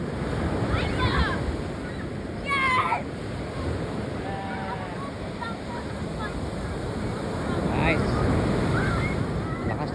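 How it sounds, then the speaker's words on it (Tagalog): Ocean surf rolls steadily onto Bournemouth beach in summer, a continuous wash of breaking waves mixed with wind buffeting the microphone, with no clear pauses. "Ang lakas ng alo."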